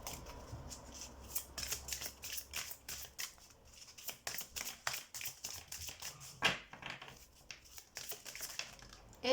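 Oracle cards are shuffled by hand in quick, crisp riffles and slaps, a rapid papery flutter with brief pauses as cards are drawn, close and fairly quiet.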